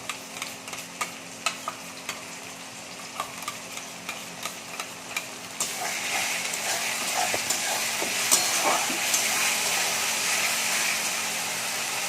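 Bengali-style spice paste for chicken sautéing in oil in a pan, with steady rhythmic stirring scrapes at first, then a louder, continuous sizzle and frying crackle taking over, close and without talk.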